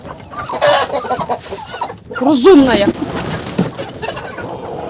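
Chickens and guinea fowl in a farmyard make close, loud, irregular clucks and squawks, while someone talks over them.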